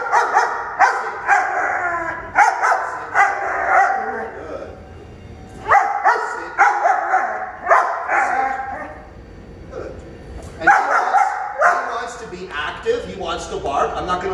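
A German shepherd puppy barks and yips in repeated short bursts at close range, mixed with someone speaking and giving commands.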